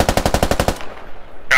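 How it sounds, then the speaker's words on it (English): Video game gunfire during a Humvee assault on insurgents in Al Basrah: a rapid burst of about eight close, loud automatic shots, then a short quiet tail. "There's a guy shooting at me from over here, Bixby."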